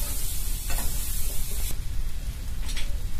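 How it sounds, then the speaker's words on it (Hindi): A raw mango pickle mixture for a sweet mango pickle is stirred and roasted in a pan. A dense, steady sizzle runs under scraping stir strokes throughout. "अब इसको अच्छे से चलाते हुए भून लेंगे।"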